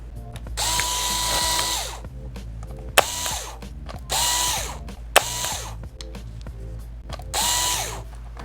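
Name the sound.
screwdriver removing motherboard screws from Dell Chromebook 11 3110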